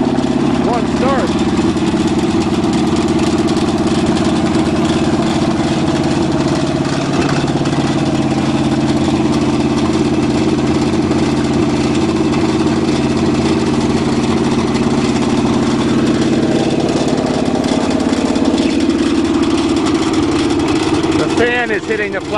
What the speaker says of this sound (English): Is hitting the plastic radiator shroud, so that's what's wrong, making all the noise.